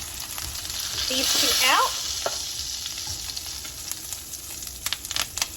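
Chicken cutlets for keto chicken piccata fry in a pan, a steady sizzle under a brief spoken phrase, with a swell of louder crackling as pieces are moved and sharp utensil clicks near the end.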